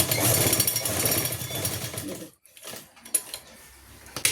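A sewing machine stitches elastic onto pant fabric with a fast, close mechanical whir for about two seconds, then a pause followed by a few short bursts of running.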